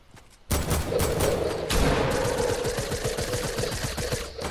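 Video game gunfire erupts after a brief quiet start, a dense fusillade of rapid shots and bursts that rolls on loudly and steadily to the end.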